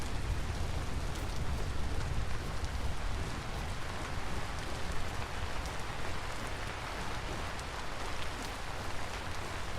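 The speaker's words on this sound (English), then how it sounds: "where you hear the raindrops hit the leaves instead of the floor" Steady video-game rain pattering densely on foliage, a continuous soft hiss with a low rumble underneath, no voices.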